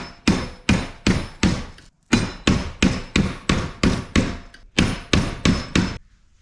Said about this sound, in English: secure it in a vise and angle it upward and just gently tap on it